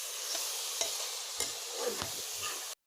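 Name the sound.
roasting laskara in a wok (kerahi), stirring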